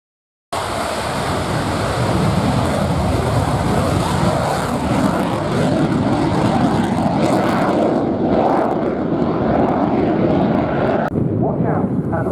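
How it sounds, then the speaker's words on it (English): Lockheed U-2 aircraft on very short final approach to the runway, a loud continuous engine roar that holds steady across the whole stretch before cutting away near the end. "Watch out at the right-hand edge of the runway as the U-2 turns onto very short finals"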